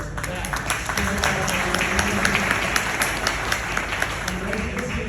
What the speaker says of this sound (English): How about giving yourself a round of applause for that?